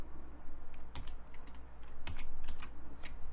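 Computer keyboard keys pressed while entering notes in MuseScore notation software, a series of light, irregular clicks and taps, close and fairly quiet, with no one speaking.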